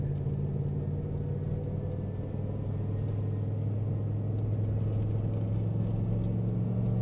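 A Cadillac Escalade stuck in first gear drives along, a steady, close, low engine rumble that holds one pitch without shifting for the whole stretch.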